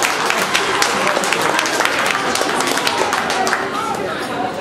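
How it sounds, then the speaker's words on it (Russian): Applause and crowd chatter fill a chanson club concert hall, with dense clapping close by and voices talking over it throughout at a steady, loud level. "Друзья, давайте аплодисментами поддержим."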